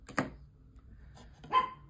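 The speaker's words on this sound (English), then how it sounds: "Oh, one of my dogs barking." Domestic dog barking indoors: two short barks about a second apart, one sharp and one softer, heard alone and fairly faint.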